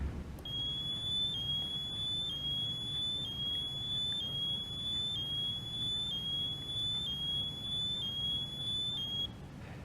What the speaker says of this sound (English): the alarm activates through the pressure sensors in the seat